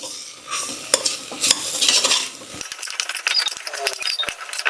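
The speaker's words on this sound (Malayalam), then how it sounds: "മസാലയായിട്ട് നന്നായിട്ട് മിക്സ് ആക്കി കൊടുക്കാമേ." Potato pieces being stirred with masala in a pressure cooker, with repeated scraping and clinking of a spoon against metal and a light sizzle, close and continuous.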